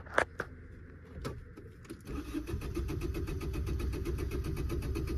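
A Tata Zest with starting trouble: a few sharp clicks and short bursts, then the engine cranks steadily in a fast even rhythm for several seconds without catching, close and fairly quiet.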